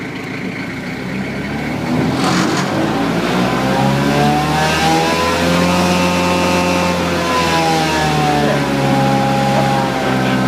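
A small mulch blower engine revs up and holds a steady, loud half-throttle drone, with slight pitch wavering throughout.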